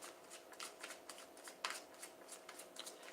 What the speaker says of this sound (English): I'm just going to pre-shuffle this deck really quickly today.